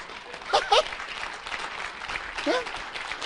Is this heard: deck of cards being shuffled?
no